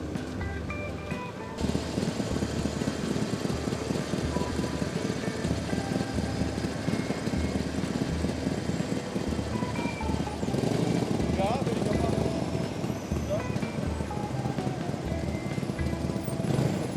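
A Cadillac DeVille V8 runs steadily at a spring car meet, a low continuous engine rumble that carries through the whole stretch amid crowd noise and nearby voices.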